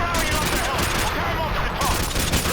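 Dense gunfire from the video game Call of Duty Modern Warfare 2, with a continuous loud fusillade of overlapping shots throughout the firefight and a player talking over it.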